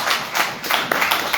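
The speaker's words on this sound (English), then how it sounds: "Everybody clap it up for Schedule 3." A few people clap briefly in a close, loud burst of hand claps.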